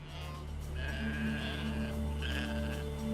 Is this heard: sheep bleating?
yes